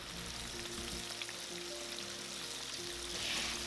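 Shrimp fry in hot oil for sweet and sour shrimp, giving a steady, close crackling sizzle with a soft hiss under it and no talking.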